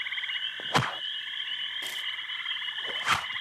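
A cartoonish frog croaking effect: three deep, throaty croaks spaced about a second apart over a steady, buzzing drone, close and clear with no talk.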